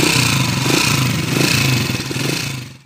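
A Honda TMX155 motorcycle engine runs steadily up close and loud, its noisy timing gear adding a rough, clattering ticking over the idle before the sound drops away at the end.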